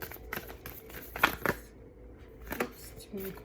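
Tarot cards being shuffled in quick papery riffles and snaps, close and fairly quiet, in short bursts with pauses between.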